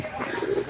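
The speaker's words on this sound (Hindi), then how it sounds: "अभी अभी एक कबूतर आया और मेरे सिर के ऊपर से आके मेरे घर के अंदर घुस गया।" A pigeon gives a short, soft coo close by inside a home, brief and low under faint background noise.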